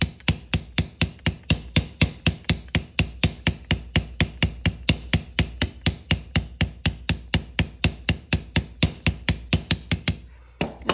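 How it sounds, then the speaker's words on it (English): A hammer's ball side pounds metal flat in steady, evenly spaced strikes, about four per second, each a sharp, close, ringing knock, repeating without pause for roughly ten seconds with no talking. "you're just gonna hammer it flat"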